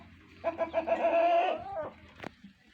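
A hen clucks nearby in a quick run of short clucks, then a longer drawn-out call, followed by a sharp click.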